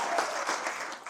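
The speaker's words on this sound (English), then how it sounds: "A round of applause for" A school poetry competition audience applauds in a brief, dense burst of steady clapping that fills the moment from start to finish.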